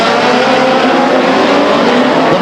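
A pack of race cars, led by Cervetti, thundering down the backstretch at Stockton 99 Speedway, their engines a loud, continuous roar that stays close and unbroken from start to finish.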